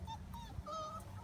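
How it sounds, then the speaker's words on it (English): A faint dog, a ball and bird dog, gives soft high whimpers and whines in short rising bursts outdoors on grass, with low background noise. "He's a ball dog and a bird dog."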